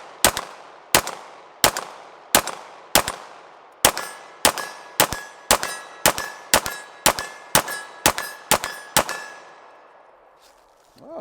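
FLUX Raider toy blaster being primed and fired repeatedly: about fifteen sharp, loud clanging shots at a steady rhythm, each with a brief metallic ring, up close with no talking.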